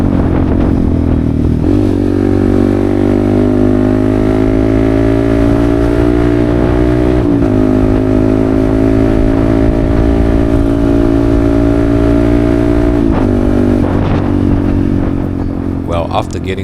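Yamaha XSR155 motorcycle cruising on an open road after a chain repair, its engine droning steadily at a constant pace for the whole stretch, loud and close with wind noise, shifting pitch briefly a couple of times.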